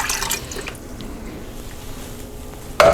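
Water from a can poured into an Instant Pot of pork filet Manwich BBQ chili, a wet splashing and dripping pour close by, louder at the start and swelling again in a brief gush at the end.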